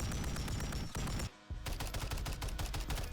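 Rapid automatic gunfire from weapons in the Call of Duty Modern Warfare 3 video game, loud, dense bursts of shots that break off briefly midway and then resume, with no talking.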